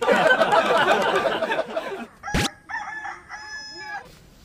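A loud rooster crow, drawn-out and wavering, rings out after a burst of dense clucking and bird chatter, close by.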